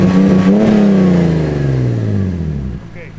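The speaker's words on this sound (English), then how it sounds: "How about some rev ups?" A straight-piped BMW E46 engine revs loudly nearby, a raspy roar that climbs briefly then falls away steadily in pitch over about three seconds as the revs drop.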